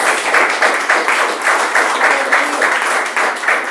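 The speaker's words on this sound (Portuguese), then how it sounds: "Aplauda o Senhor Jesus, irmãos" A church congregation claps continuously and fairly loudly, with rhythmic bursts of applause filling the space and a faint voice underneath.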